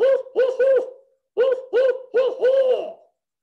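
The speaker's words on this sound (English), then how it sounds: "barred owls have dark eyes, round heads, and have a very distinct call. They go sort of, it goes sort of like, who cooks for you?" A barred owl gives its 'who cooks for you' hooting call in two clear phrases, each a rhythmic series of deep, rounded hoots, close and loud with a short pause between phrases.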